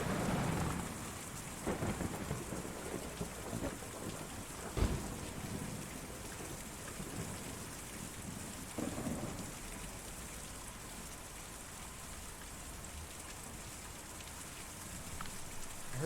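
Steady rain pours with a low roll of thunder in the video game Kentucky Route Zero, a continuous wash of sound with a louder rumble near the start and a brief crack around five seconds.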